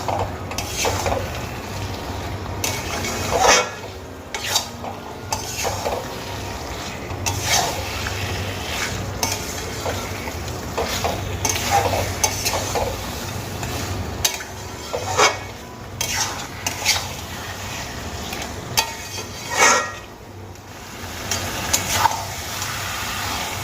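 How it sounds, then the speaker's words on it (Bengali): Chicken pieces being stirred and sautéed with spices in a pan for a Bengali chicken curry masala, with repeated scraping and clinking of a spoon against the pan over a low cooking bed throughout. "মাংসগুলোকে আমি কিছুক্ষণ কষিয়ে নিয়েছি।"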